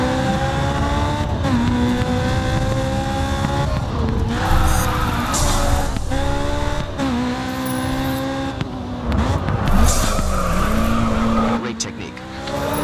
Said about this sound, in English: Drifting is about precision car control.